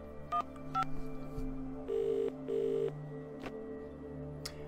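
Touch-tone telephone keypad dialing a number in the video game The Dream Machine: a series of short dual-tone beeps, some quick pairs and a couple of longer tones, over a quiet background hum.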